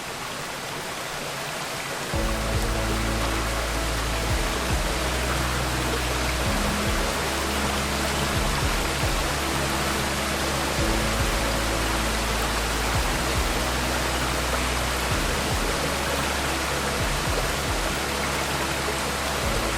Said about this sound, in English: tucked away in the forest is a stunning waterfall